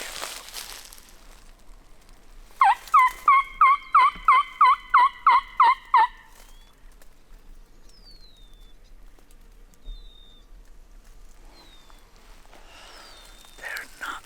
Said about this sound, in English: Let's see if we can get him to gobble again.